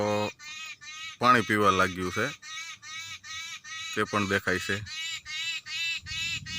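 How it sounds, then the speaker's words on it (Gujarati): Loud, repeated babbler calls, harsh and honking, come in quick bursts close by as the birds are fed at a village farm on a cool morning, while a person speaks between them. "પક્ષીઓનો કલરવ"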